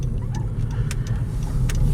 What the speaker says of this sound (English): Second gear start. Again, going up the hill here.